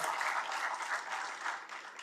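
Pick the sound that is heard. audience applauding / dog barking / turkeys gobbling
audience applauding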